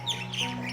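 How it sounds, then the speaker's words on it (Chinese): Quick, high chirps from small birds in treetops outside a kitchen window, over a steady low hum, lasting under a second. "小鸟正叽叽喳喳地陪着"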